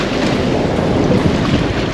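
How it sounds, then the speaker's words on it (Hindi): Sea waves rolling past a private yacht off Colombo, heard as a steady, loud wash of water mixed with wind buffeting the microphone, with no break across the moment. "ये समंदर की लहरें।"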